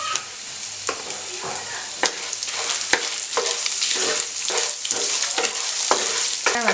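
Tamarind and asafoetida sautéing in a pan for a thoothuvalai chutney, a steady close sizzle and fry with repeated stirring scrapes and clacks throughout, no talk.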